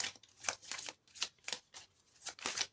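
Tarot cards being shuffled and drawn by hand, a close series of quick papery riffles and slaps in irregular bursts, fairly quiet, with no talking over them.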